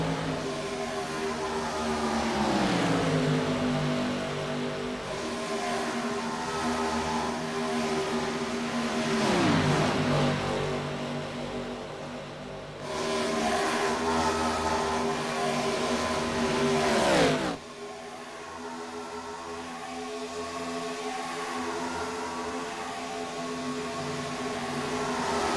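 IROC race cars roar past on the Talladega oval, engines rising and falling in repeated loud pass-bys, each swelling to a peak and then dropping in pitch as the cars sweep away.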